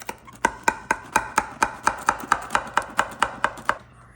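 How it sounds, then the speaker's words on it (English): A knife crunches through crispy pizza crust in a steady run of about fifteen sharp, evenly spaced cuts, close and loud with no talking. "We have our knife so we can cut that pizza crust"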